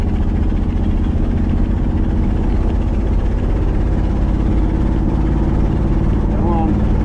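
A 1986 Chevrolet C-10 square-body truck engine rumbles loud and close while driving in second gear, a steady low drone with a slight rise in pitch near the end.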